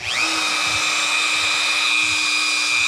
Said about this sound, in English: I just sand it down a little bit. Just nothing. Goes pretty quick.